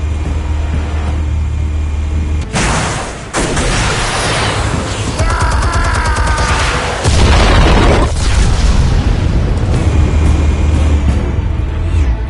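Explosives detonate in Batman: The Telltale Series, with two loud, deep booms rolling into rumbling debris and crackle over a steady low background hum, close and dominant.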